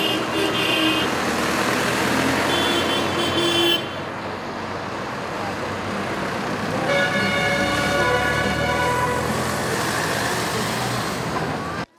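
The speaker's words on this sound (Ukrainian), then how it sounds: "Декількома автобусами бійці 15-го окремого гірсько-піхотного батальйону заїжджають на територію" Several buses carrying soldiers of a mountain infantry battalion drive onto a military base, steady engine and road rumble with a horn toot near the start and continuous traffic noise throughout, no talk.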